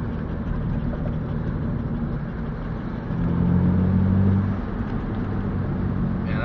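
A Mitsubishi 3000GT drives down a road, heard from inside as a steady engine drone with road and tire noise, briefly rising in pitch and loudness midway.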